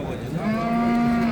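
A cow moos in one long, loud, drawn-out call at a busy Uzbek cattle market where pregnant Russian-breed cows are being traded, with faint market noise underneath.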